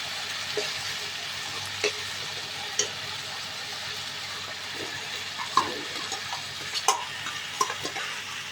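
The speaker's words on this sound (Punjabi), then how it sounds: "ਸਾਗ ਮਿਕਸ ਕਰਾਂਗੇ" Greens being stirred into a hot tadka in a home kitchen for saag, a low steady sizzle with scattered soft clicks and scrapes of the spoon, fairly quiet and with no talking.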